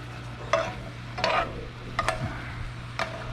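Pheasant back cooking in a pan, a low steady simmer under four brief stirring or basting scrapes spaced evenly about a second apart.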